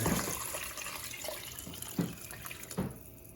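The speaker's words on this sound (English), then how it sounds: "we're gonna throw in 8 cups of water" Eight cups of water pour and splash steadily into a large pot for soup, a close, continuous liquid rush with a few louder gurgles before it stops.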